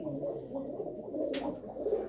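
Pigeons belonging to a Punjabi breeder coo steadily in a low, rolling murmur, several birds overlapping close by, with a brief bright rustle partway through.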